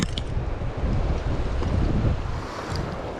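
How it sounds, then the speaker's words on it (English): Gusty wind roars across the microphone outdoors during a fly fishing session on the water, a steady broadband rush that swells and eases over a few seconds with no talking. "The wind is coming and going"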